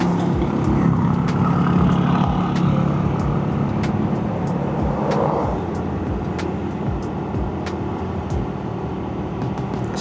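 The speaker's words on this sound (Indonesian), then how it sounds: "Wah, ada mobil jeep." A jeep drives past on a road near Malang: loud, close engine and tyre rumble swells at the start, then eases into a steadier, slightly softer drone with scattered clicks.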